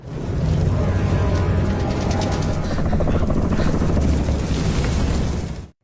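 A military helicopter arrives in a film scene, a loud, steady rotor and engine roar with booming low rumble holding throughout before cutting off abruptly at the end.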